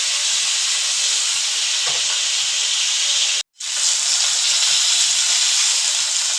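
Tilapia pieces frying in hot oil, a steady loud hiss and sizzle running throughout with a brief break partway, no talk.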